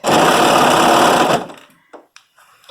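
A sewing machine runs a loud, steady burst of stitching along a sweater seam for over a second, then stops, leaving a few faint handling clicks.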